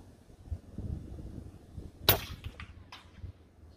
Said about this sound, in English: I'm going to shoot those plums down there at 50 meters with the wind that's blowing